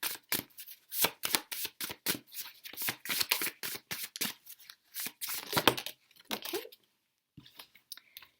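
Tarot cards are shuffled and handled up close: a quick run of crisp riffling bursts in an uneven rhythm, then a short pause and a few softer flicks.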